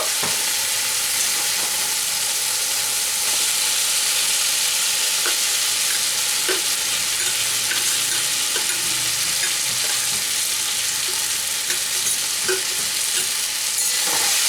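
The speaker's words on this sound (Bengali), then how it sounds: "এবার আমি যে আলু আর উচ্ছেটা ভেজে রেখেছিলাম সেটা দিয়ে দেব।" Potato and bitter gourd frying in spiced oil in a home kitchen, a steady loud sizzle with scattered clicks of a spoon stirring throughout, no voices.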